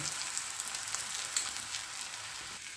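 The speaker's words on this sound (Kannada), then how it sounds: "ಇದಕ್ಕೆಲ್ಲ ಒಂದು ಕಾಲು ಕಾಲು ಚಮಚ ಆಗೋಷ್ಟು ಎಣ್ಣೆನ ಬಿಡ್ತಾ ಇದ್ದೀನಿ" Oil sizzles steadily under Malenadu odape, a flattened rice-flour flatbread, frying in a pan, with an even close hiss throughout and no talk.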